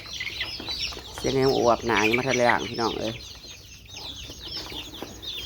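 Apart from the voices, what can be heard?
chickens clucking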